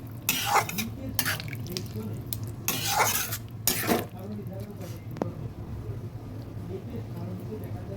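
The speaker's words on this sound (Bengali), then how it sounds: "শাক ডাটাগুলো ভালোভাবে নেড়ে দিচ্ছি" Leafy greens and vegetable stalks stirred in a pan, with a few short bursts of scraping and clattering against the metal over a low steady hum, while a voice talks quietly underneath.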